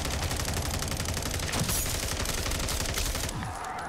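A sentry turret fires in Call of Duty MWZ, a rapid sustained burst of loud automatic gunfire that tapers off at the end.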